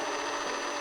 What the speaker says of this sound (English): Boy, that drill bit ain't that sharp,